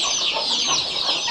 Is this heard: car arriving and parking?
no